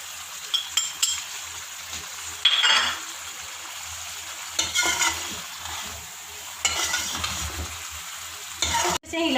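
A spoon scrapes and stirs through blended onion and tomato frying with red chili, turmeric and coriander powder for chicken karela, with a soft sizzle underneath and occasional clinks against the pan.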